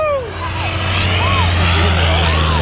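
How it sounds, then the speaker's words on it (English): Skydiving plane flying overhead during a tandem skydive, a steady propeller-engine drone with whooshing wind, heard outdoors from the ground. "There's your plane, guys."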